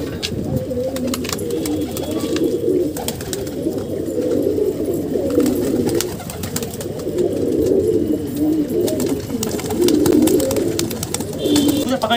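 Pigeons on a rooftop give low, rolling coos that repeat in waves, close and fairly loud over steady background noise.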